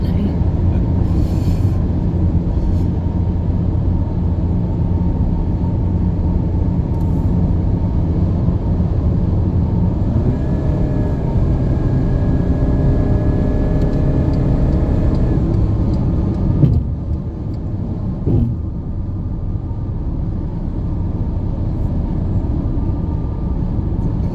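Steady, loud road and engine rumble from inside a car cruising at 100 km/h on an Auckland toll road, a constant drone with a faint whine that shifts partway through.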